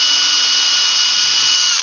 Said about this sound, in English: Be real gentle with this little drill bit because it can break off pretty easily